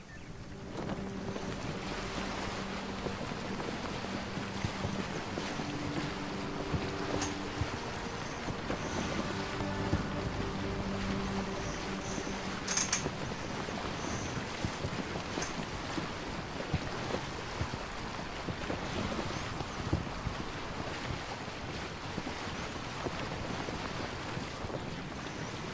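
A boat sails across open water in the game Assassin's Creed Origins, with steady wind rushing and waves washing against the hull, a continuous near wash of sea noise with faint tonal chimes now and then.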